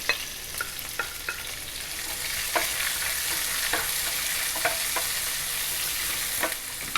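Celery stalks and red onion fry in oil for a vegan Ethiopian firfir, sizzling steadily and close up. Occasional stirring scrapes and clicks break through, with no talking.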